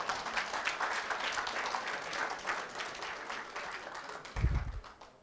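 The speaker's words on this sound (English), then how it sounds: "Can we give His Excellency another round of applause" A symposium audience gives another round of applause for His Excellency, soft steady clapping at a distance that slowly fades, with a low thump near the end.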